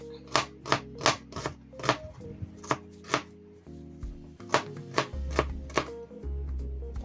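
A knife chops an onion lengthwise on a board for Filipino dinuguan, with a dozen or so sharp, evenly spaced close-up cuts in two bursts and a short pause between them.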